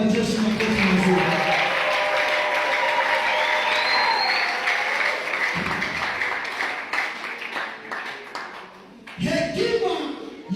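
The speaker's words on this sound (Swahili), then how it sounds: "Chapia Bwana majeshi makofi mazuri." A church congregation claps loudly and steadily for the Lord of hosts, a dense wash of applause that thins out midway and swells again briefly near the end, with a preacher's voice over it.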